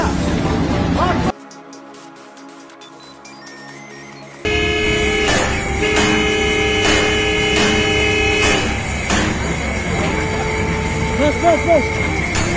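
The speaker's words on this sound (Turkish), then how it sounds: "Kornaya bak." Loud, steady vehicle horn blasts sound at a construction site, long tonal honks dropping out briefly then returning, with voices speaking over them.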